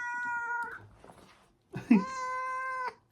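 An excited house cat lets out two loud, drawn-out meows close by, separated by a short pause, with a quiet voice briefly heard between them.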